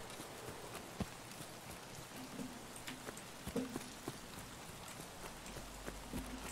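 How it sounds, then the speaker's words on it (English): Rain falls in the video game Escape from Tarkov as a quiet, steady hiss of drops on surfaces, with scattered soft taps and pattering, faint and continuous with no voices. "Rain's stopping."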